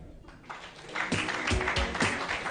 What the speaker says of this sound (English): We need to clap for him.